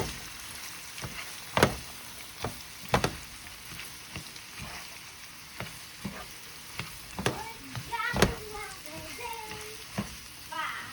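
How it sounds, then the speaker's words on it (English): Vegetables sautéing with pancetta in a pan for a Bolognese sauce, a soft constant sizzle broken by sharp scraping and stirring clicks, with faint speech in the background. "Mix in with the pancetta"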